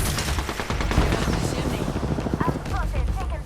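Apex Legends gunfire in a close firefight, with a rattle of fast shots and hits under a busy game mix, followed by a few short electronic beeps near the end.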